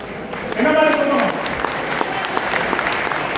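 An audience at an association meeting in Pondicherry breaks into applause, a steady wash of many hands clapping that swells after a short spoken phrase and carries on to the end.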